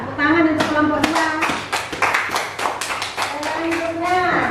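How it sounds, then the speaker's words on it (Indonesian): Classroom of children clapping for a group that just presented, a burst of bright overlapping hand claps that swells and then fades, with a teacher's voice speaking before and after. "Tepuk tangan untuk kelompok dua"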